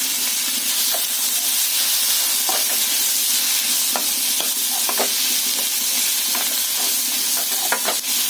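Roasted gram and grated coconut frying in a pan for an egg curry sambar: a steady close sizzle and hiss, broken by soft scraping clicks of stirring at irregular intervals, with no talking.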